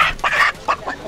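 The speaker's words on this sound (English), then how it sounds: "Chicken." A live chicken at a market in Ethiopia lets out a quick run of loud, close clucks over about a second.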